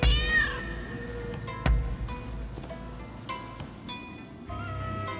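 Cat meowing in the video game Rise of the Ronin: several drawn-out meows, the first and loudest near the start, then shorter mews over a low hum of game ambience and occasional soft thuds.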